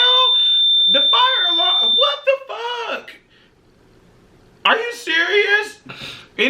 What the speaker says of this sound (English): The fire alarm, what the fuck? Are you serious?